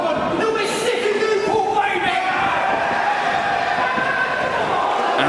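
A live wrestling crowd in Newport cheers and shouts in a dense roar, with whoops and yells swelling early and then holding a lively hum throughout.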